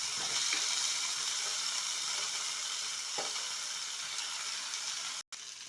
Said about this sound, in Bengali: আলু সেদ্ধ করা আলুটা ভেজে নেব।